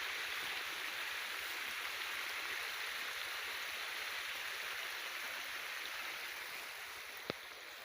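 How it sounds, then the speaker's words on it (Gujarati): Water rushing steadily out of a hole punched in a pipe line, a continuous broadband hiss and gush held close and even throughout, with one brief sharp tick near the end. "લાઈનમાં હોલ પાડે ને પાણી વીયું જાય. આમ અત્યારે વીયું જાય."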